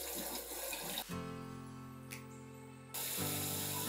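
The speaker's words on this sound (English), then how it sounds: "Now I'm going to rinse off the back plate." Drain cleaner is rinsed off the back plate of a GPU water block under a faucet: a quiet rush of running water that gives way to a humming pause, then resumes.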